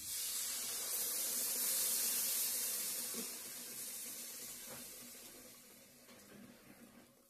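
Water pours steadily into a pot of chickpea curry (ghugni) as it cooks, a continuous hissing splash that is loudest early on and gradually fades.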